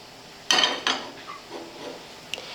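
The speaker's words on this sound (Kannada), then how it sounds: "ಮೊದಲೇದಾಗಿ ನಾನು ಒಂದು ಪಾತ್ರೆ ಇಟ್ಕೊತೀನಿ ರೀ" A cooking pot is set down in a home kitchen while a capsicum masala rice is started: two sharp metallic clanks close together, then faint small knocks and a light tap in an otherwise quiet room.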